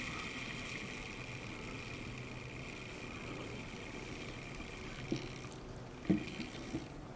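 A Tortoise switch machine motor on a model railway running at quarter throttle gives a low, steady, faint hum with a few small clicks near the end.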